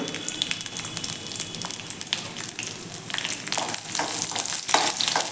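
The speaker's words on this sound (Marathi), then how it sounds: "आपल्याला यामध्ये या लसूण पाकळ्या आहेत त्या भाजून घ्यायच्या आहेत" Garlic cloves roast in a small amount of oil in a pan for a dry coconut chutney, giving a close, steady sizzle with crackling bursts and stirring clicks that grow busier toward the end, with no voices.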